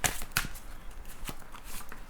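Tarot cards shuffle and are drawn, giving a few crisp riffling snaps followed by soft papery slides, close and moderately quiet.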